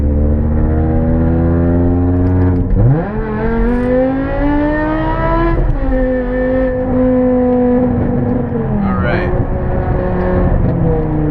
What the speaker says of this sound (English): So once you get this thing up and revving, it's very, very, very, very enjoyable.